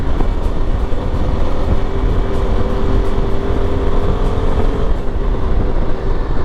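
A Yezdi Adventure motorcycle rides through city traffic, its engine and road roar loud and continuous with heavy wind and traffic noise throughout.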